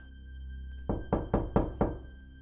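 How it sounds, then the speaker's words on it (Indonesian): Five firm knocks land on a door in an even, quick rhythm, close and clear over a low background hum. "ada yang ngetok-ngetok pintu"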